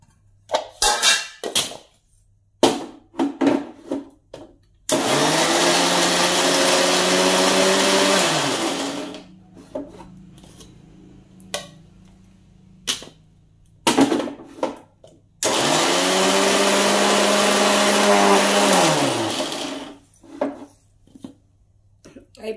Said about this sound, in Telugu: ఇప్పుడైతే మిక్సీకి వేసుకుంటా